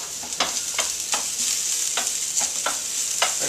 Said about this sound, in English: Give your onions another little nice toss.